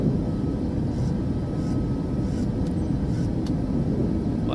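An airliner taking off and climbing in Microsoft Flight Simulator 2024, a steady, loud roar of jet engines and rushing air that holds constant, with faint clicks and tones over the top.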